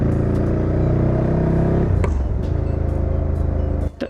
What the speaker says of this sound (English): the engine roars like a muscle car